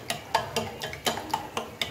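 A spoon stirs spices into an egg curry (anda salan) in a pot, giving a steady series of light clinks and scrapes about every quarter second, quiet and close, with no voices.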